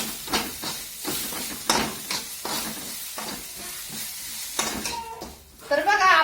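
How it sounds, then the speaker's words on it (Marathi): Curry leaves and coriander sizzle as they are fried in a hot pan during tempering, with crackling bursts and stirring scrapes that grow sharper and louder toward the end, under faint background voices. "कढीपत्ता आणि कोथंबीर टाकायचा आपल्याला तो पण चांगला परतून घ्यायचा"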